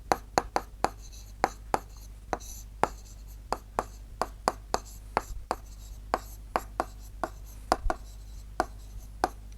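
Writing a fraction by hand in a class-6 math lesson: a long series of sharp, close pen taps and short scratches at an uneven, quick pace over a faint hum, with no voice.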